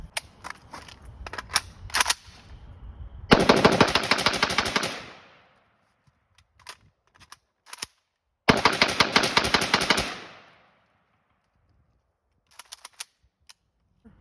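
An AK rifle fitted with a CMC 2lb trigger fires close and loud in two rapid strings of shots a few seconds long, with scattered single shots and quiet gaps between them.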